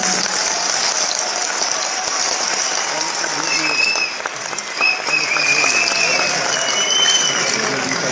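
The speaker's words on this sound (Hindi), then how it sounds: "ये से एक बार ताली बजानी तो बजा लीजिए" Audience clapping at a speech event, a broad continuous wash of applause that stays fairly steady and loud throughout with some scattered rattling texture.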